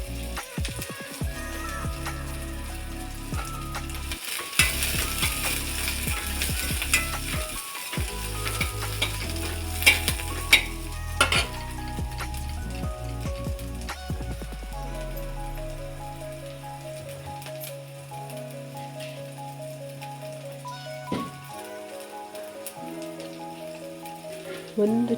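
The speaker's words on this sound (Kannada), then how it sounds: "ಕರಿಬೇವು ಹಾಕಿದ್ದೀನಿ, ಒಣಮೆಣಸಿನ್ಕಾಯಿ ಹಾಕ್ತಾಯಿದ್ದೀನಿ." Curry leaves and dried red chillies frying in hot oil for a tempering of horse gram dish, with a steady crackling sizzle and occasional stirring clatter; a background tone runs under it and no one speaks.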